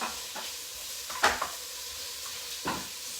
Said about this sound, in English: sizzling good stuff right here